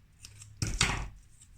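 Scissors snip through paper to cut strips, a single short crisp cut close by, quiet, with faint handling sounds around it.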